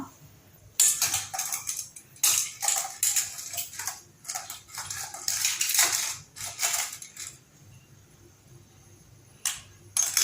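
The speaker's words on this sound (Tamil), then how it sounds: "இப்போது நம்ம எடுத்து வச்சுருக்கிற நகையை வந்து நம்ம உள்ளே போட்டுக்கலாம்" Pieces of covering jewelry, including silver, dropped into a bowl of foamy shampoo cleaning solution: bursts of close metallic clinking and jangling in irregular clusters, with quiet pauses between.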